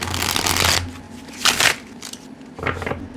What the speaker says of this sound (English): I could shuffle these cards